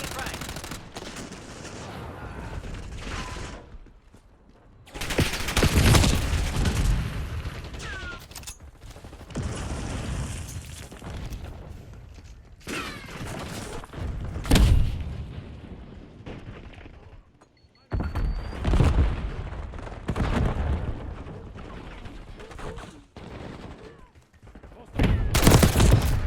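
A frag grenade thrown and exploding in Call of Duty: Black Ops 6, a heavy boom set among bursts of gunfire and thuds in a chaotic firefight, with a voice speaking intermittently over the action.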